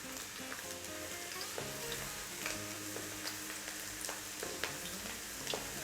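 A handful of garlic cloves sizzle and fry in a little hot oil, a steady close crackling hiss with faint ticks of spattering, no voices.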